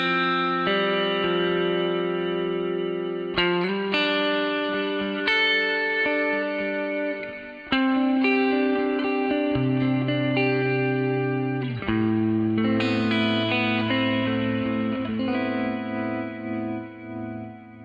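Guitar played through a Quilter Steelaire amplifier with the reverb dwell turned up, giving a long, sizzling reverb tail that washes over sustained chords and notes, loud and continuous with no talking.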